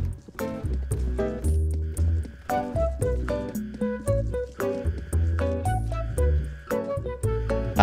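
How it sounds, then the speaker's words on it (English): Looping in-game music with steady bass pulses and melodic tones from the Roblox game Criminality, playing continuously and fairly loud with no talk. "I'm pretty sure that's the sound of the elevator."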